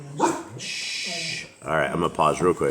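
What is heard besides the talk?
dogs barking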